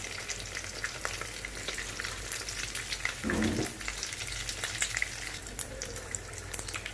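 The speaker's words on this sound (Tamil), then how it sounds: "ரெண்டு பக்கமும் இந்த மாதிரி நல்ல மொறுன்னு பொரிச்சாக்கில் நம்ம எடுத்து வச்சிடலாங்க." Cutlets fry in hot oil over a medium-high flame, a steady close crackling sizzle throughout with a brief louder burst partway, as if turned or stirred, and no talking.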